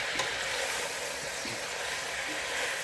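Tripe stirred with onions in a pan, a steady broadband sizzle with a few soft scraping stirs, close and continuous, no voices.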